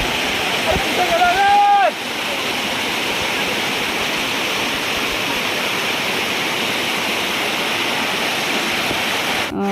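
Loud, continuous rush of stream water pouring over rocks on the trek up Visapur Fort, a steady roar throughout, with a short voice near the start.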